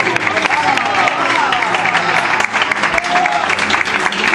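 Steady, enthusiastic applause from a church congregation fills the whole stretch, loud and continuous with dense clapping throughout.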